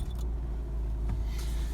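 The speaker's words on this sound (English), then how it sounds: "Start the car." A 2016–2018 Honda Civic idling right after being started, a steady low engine rumble with faint jingling of keys near the start and end, no voices.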